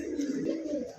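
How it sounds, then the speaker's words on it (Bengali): A pair of black-tailed pigeons give one sustained, throaty coo, close and fairly loud, with no other sound. "একজোড়া কাল দম কবুতর"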